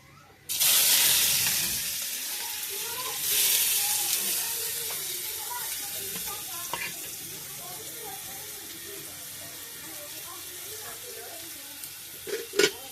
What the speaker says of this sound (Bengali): তেল থেকে ধোঁয়া ওঠা মানে তেল গরম হয়ে গেছে এরপর আমি এখন আগে থেকে প্রসেসিং করে রাখা পেঁয়াজ হলুদ এবং কাঁচামরিচ দিয়ে দিচ্ছি